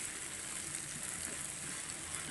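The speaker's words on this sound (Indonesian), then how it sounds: "Kita tumis-tumis lagi sampai wangi." Coarsely chopped or blended chili peppers sautéing in a hot pan give off a steady, even sizzle and crackle from start to finish, with no talking.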